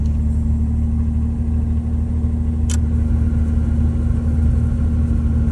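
A blower fan in a 1992 Chevy S10, set to vent, runs as a steady whir over the constant rumble of the idling engine, with one brief sharp click partway through and no voices.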